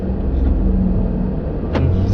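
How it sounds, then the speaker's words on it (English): A 2018 Renault Sandero three-cylinder engine accelerates with a steady, loud rumbling drone close by, and a brief higher sweep rises near the end. "The sound of that 3-cylinder is good"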